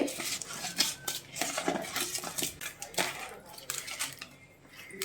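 Sardines being mixed with salt in a bowl, close irregular clinks and scrapes of utensil against dish with soft wet stirring, a voice speaking now and then underneath.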